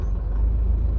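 Toyota engine, 2000–2009 model, running through its idle reset, with a steady low rumble close up and a continuous throttle drone, alone.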